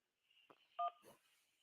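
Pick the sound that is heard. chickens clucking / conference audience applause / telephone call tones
telephone call tones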